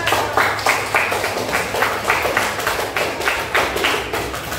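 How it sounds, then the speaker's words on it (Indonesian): Students applauding in a classroom for a group's presentation, a steady run of loud, rhythmic clapping that pulses evenly throughout. "Ya, tepuk tangan."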